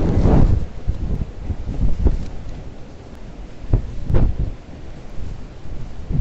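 Typhoon Hato batters Hong Kong's Star Ferry Pier: strong wind roars and buffets the microphone while heavy rain hisses, with sharp gusty thumps breaking through the steady loud storm noise.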